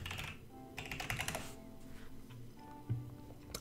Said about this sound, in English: I'm gonna go ahead and type in the password for my router here.